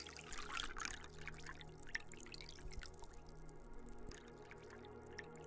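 A thin trickle of water from a tap in a horror video game, faint and close, dribbling unevenly over a low steady background hum.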